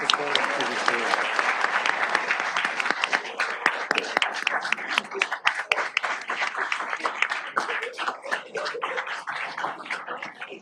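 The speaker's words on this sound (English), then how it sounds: "So how about a round of applause for Mike's family that helped support him th" Applause from the audience at a city council meeting in Redondo Beach, a sustained crowd of clapping with sharp individual claps standing out, slowly thinning toward the end.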